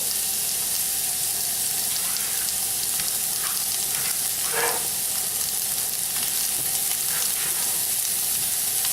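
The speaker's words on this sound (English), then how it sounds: "You can see my zucchini sizzling away there." Constant crackling sizzle of zucchini frying in hot oil in a pan, close up, with a few light clinks of a utensil stirring.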